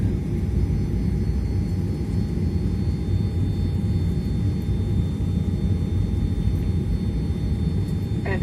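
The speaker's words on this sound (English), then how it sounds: "this aircraft will be parked in a parking area without aerobase facilities" An airliner taxis to its parking area at an airport terminal, its jet engines giving a loud, steady drone with a faint high whine that continues evenly throughout.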